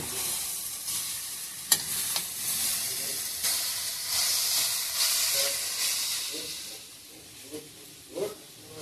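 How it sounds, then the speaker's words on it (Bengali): Grated carrots sizzle and hiss in ghee in a hot pan for gajar halwa while a spatula scrapes and stirs now and then; faint sounds of movement nearby. "15 মিনিটই ভাজতেছি"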